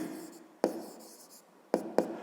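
Pen writing the answer to a fifth-grade math equation on paper, a soft scratching with a few sharp taps as strokes and digits are marked, close and quiet, with no talking.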